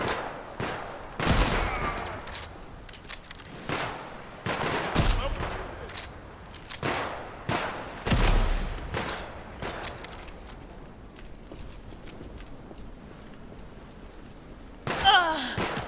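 Volley of gunfire in a video game, a series of sharp loud shots and thuds spread irregularly across the stretch, some clustered, with quieter gaps and a final burst near the end.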